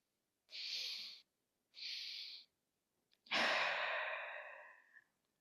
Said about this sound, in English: And your next inhale, you're going to breathe into those hands